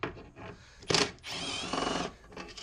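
A power tool gun spins out a 10 millimeter bolt in two short bursts of whirring, close and moderately loud, with clicks and handling noise around them.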